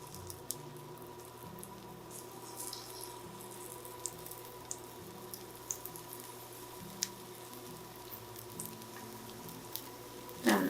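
Batter patties fry in very hot oil in a pan, giving a soft, steady sizzle with a few faint pops and ticks, quiet and continuous.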